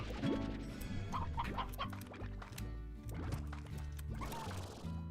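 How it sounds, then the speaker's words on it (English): A Rock Rooster from Slime Rancher clucks repeatedly in short, choppy bursts over a busy game soundscape of splashes and clatter, with no talking. "Rock Rooster."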